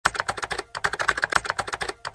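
Rapid typing on a computer keyboard, a close, dense run of crisp key clicks in quick uneven bursts with a short pause partway through.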